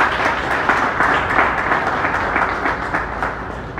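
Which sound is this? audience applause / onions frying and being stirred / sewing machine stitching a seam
audience applause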